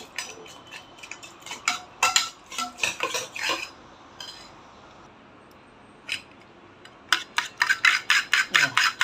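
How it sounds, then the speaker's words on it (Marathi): Eggs are beaten in a bowl for an omelette, the utensil clinking rapidly and closely against the bowl in quick rhythmic bursts, with a short quiet pause in the middle before the whisking resumes. "आता मी अंड चांगला फेटून घेणार आहे"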